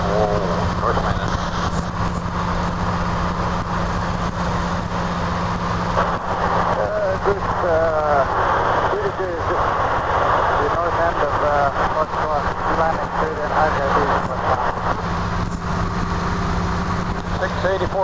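A de Havilland DHC-2 Beaver floatplane passes over a lodge on a Canadian lake, its steady propeller drone sitting under almost continuous nearby talk.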